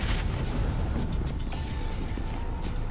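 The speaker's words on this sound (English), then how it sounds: "Sky pushes on in with nades now as well." Grenades explode during a PUBG Mobile esports match, producing dull, rumbling booms layered over continuous low battle noise, with a few sharper pops scattered through.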